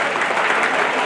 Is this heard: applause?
yes